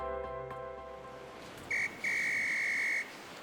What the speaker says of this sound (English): Is the lifeguard pointing and blowing his whistle at us?